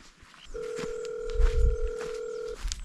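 A phone gives a steady, even tone for about two seconds on a mountain trail during the Galiyat trail race in Pakistan, with low wind rumble and faint outdoor noise around it.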